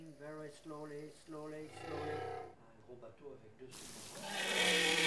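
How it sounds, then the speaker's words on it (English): Whale song recorded underwater: a series of low, moaning harmonic calls that pulse and glide, followed by a broad, rushing wash of water noise, with the calls still faintly audible beneath. "Studies have shown that different whale populations have their own distinct songs."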